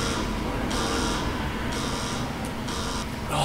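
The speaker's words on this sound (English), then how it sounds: "I fucking set off an alarm or something." An alarm going off in The Evil Within video game, a loud electronic buzzing tone pulsing on and off in a steady rhythm over a continuous noisy hiss.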